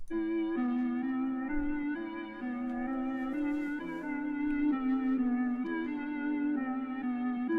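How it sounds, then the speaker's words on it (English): A bright synth lead plays a steady melody of sustained, stepping notes, close and prominent with a soft low pulse beneath it. "I wanted to add like a synth or a lead to this."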